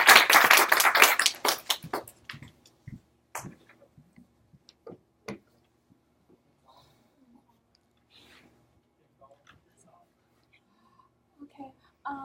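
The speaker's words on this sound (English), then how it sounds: "Let's give a round of applause for Cynthia." A small audience applauding at a capstone presentation: a loud, brief burst of clapping at the start quickly thins to a few scattered claps and taps in an otherwise quiet room.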